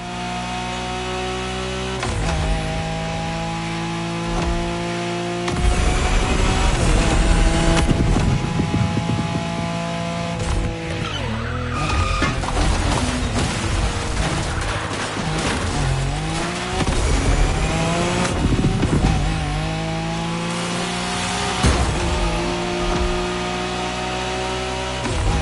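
A Nissan Skyline races in The Crew Motorfest, its engine roaring continuously and loudly with rising and falling revs through gear changes, punctuated by tire squeals and skids.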